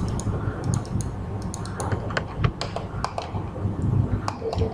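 Fingers tap steadily on a computer keyboard while drafting in AutoCAD, a quick, uneven run of light clicks heard close over a constant low background hum.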